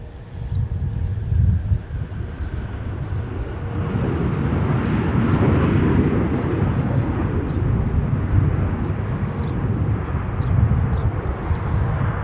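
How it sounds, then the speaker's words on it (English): A Delta Boeing 717 roars down the runway on landing as its bucket thrust reversers deploy, a broad, loud rushing rumble that swells after a few seconds and holds steady, heard from a distance outdoors with wind buffeting the microphone. "There go those bucket reversers again, Joe."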